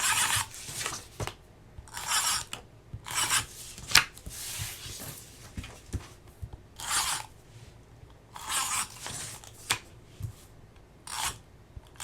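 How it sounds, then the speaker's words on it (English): Packing tape pulled off a roll and pressed onto a cardboard box, heard as several loud rasping tearing bursts with short quiet gaps between them, close up and without speech. "So I'm going to take my tape, add some tape"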